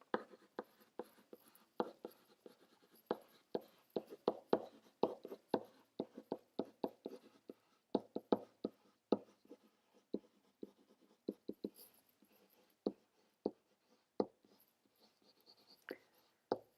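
Pencil writing a sentence on paper, with soft close scratchy strokes and taps in irregular bursts, quiet and alone.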